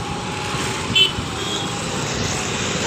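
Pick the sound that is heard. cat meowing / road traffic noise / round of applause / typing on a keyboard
road traffic noise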